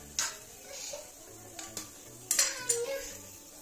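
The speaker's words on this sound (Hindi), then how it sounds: "तो देखिए मैंने यहाँ पे दाल इसमें डाल दी है, इसको थोड़ा सा ऐसे चला लेंगे" Dal tipped into a pan of roasted spices and stirred, giving close metallic clinks and scrapes of a spoon against the pan in scattered bursts, with no talk.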